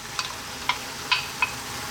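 Pasta being worked with two spoons into a pan of cooked-down tomatoes and spinach over raised heat, giving a few soft, separate scraping clinks against a low, steady sizzle.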